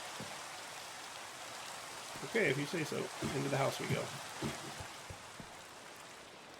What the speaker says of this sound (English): First, I want to get rid of this rain.